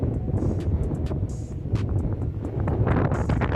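Steady wind roars and buffets the microphone throughout along the Mun River in Thailand, a dense low rumble with gusty swells and no voices.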